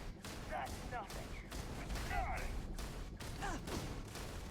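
Gunfire in the video game Starfield during a fight with a spacer captain, bursts of rapid shots crackling continuously and fairly loud, with a person speaking over the shooting.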